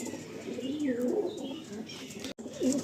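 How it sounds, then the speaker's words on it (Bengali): Andhra pigeons cooing up close, soft repeated throaty coos over a low background hum, with a brief break near the end. "খুবই ভালো পায়রা।"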